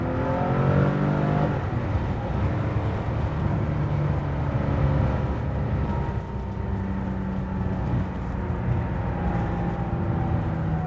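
A 1975 Porsche 911 Carrera engine revs and drops repeatedly during heel-toe downshifts, a steady loud roar with rising and falling pitch throughout.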